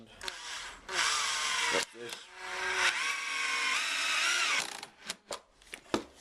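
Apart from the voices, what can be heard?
power driver driving turbo screw into timber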